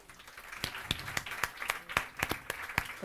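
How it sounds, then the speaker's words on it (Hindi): Scattered hand claps from a small audience as garlands are placed on guests at Revd. John Patrick's 77th birthday celebration, a thin, uneven patter of distinct claps that stays fairly quiet and distant. "जब ये हार पहनाते हैं तो ज़रूर तालियों को बजा दें।"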